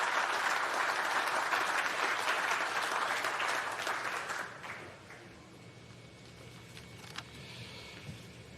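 A crowd claps loudly in welcome for a government minister at an innovation awards event, the applause broad and sustained, then thinning to scattered claps and room noise.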